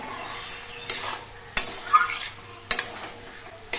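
A spoon scraping and knocking in a pan of banana stem curry, three or four sharp metallic clinks spaced apart over a faint low bubbling background.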